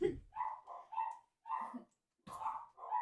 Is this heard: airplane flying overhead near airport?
no